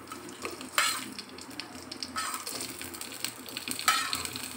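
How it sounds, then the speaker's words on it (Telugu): Peanuts with green and dried chillies fry in hot oil, a close, steady crackling sizzle broken by a few sharp spitting bursts and faint clinks of a stirring spoon against the pan. "తర్వాత ఇందులో కొన్ని పల్లీలు వేసుకోండి తర్వాత పచ్చిమిర్చి ఎండుమిర్చి వేసుకుందాం"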